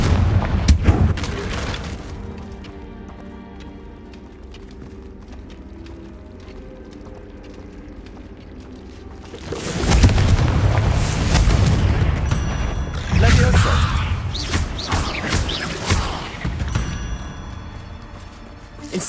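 A Confringo fire blast spell goes off in Hogwarts Legacy. A quiet, hollow stretch of ambience gives way to two heavy booming blasts with crackling bursts, each rumbling off before the next.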